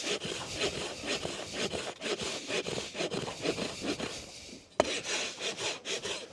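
Farrier's rasp filing down the heel of a horse's hoof for shoeing, steady rhythmic rough scraping strokes up close, with a brief knock near the end and no talk.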